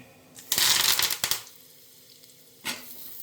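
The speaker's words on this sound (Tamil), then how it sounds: "இதுக்கும் தேங்காய் எண்ணெயில் தான் தாளித்து கொட்டணும்" Mustard seeds, dried chillies and curry leaves hit hot cold-pressed coconut oil in a short burst of loud crackling sizzle, which fades and then flares again briefly at the end.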